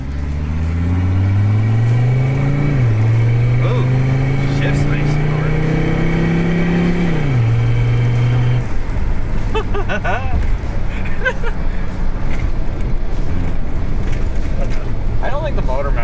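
A vehicle engine revs hard while driving, its pitch climbing and shifting through repeated rises before dropping to a rougher idle-like rumble; people talk over it in the cabin.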